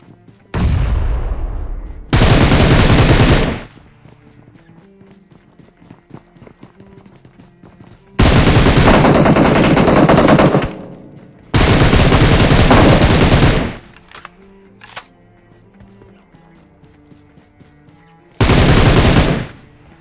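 M416 and M762 rifles fire in a video game, in loud sustained automatic bursts of one to two seconds each, separated by quieter stretches of footsteps and ambient game noise.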